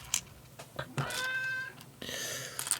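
Indoor house cat meowing, a couple of drawn-out, tonal meows close to the microphone with brief clicks and handling sounds between them.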